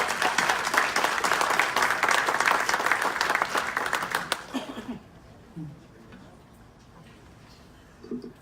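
A city council audience applauds a Cub Scout pack, loud clapping for about four seconds that quickly fades into a quiet room with faint shuffling and brief speech.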